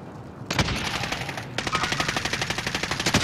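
Rapid automatic gunfire in the game Call of Duty Warzone, a short burst then a sustained fast stream of loud, close shots with no talk.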